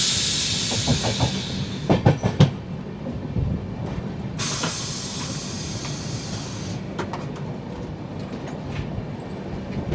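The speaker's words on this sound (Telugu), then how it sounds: "రాయచూర్ రైల్వే స్టేషన్ నుంచి కొద్దిగా ముందుకు రాగానే మన ట్రైన్ కరువు అయితే కొడుతుంది." Mail SF express train 22157 rolling on rails just beyond Raichur station, a steady rumble with a cluster of sharp clanks early on and a brighter hiss of wheel noise midway, no talk.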